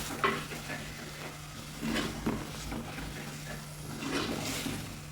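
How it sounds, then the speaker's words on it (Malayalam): Masala is sautéed in a hot clay pot with the flame off. A faint sizzle sits under slow, close scraping strokes of a spoon, in a few quiet bursts, with no speech. "ഇതെല്ലാം കൂടെ ഒന്ന് വഴറ്റിയെടുക്കും"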